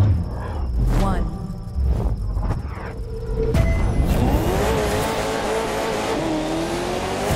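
Koenigsegg CCR 2004 supercar in the racing game The Crew 2, a loud sustained engine roar climbing through revs with a sharp gear shift midway, tire noise and game sound effects layered in.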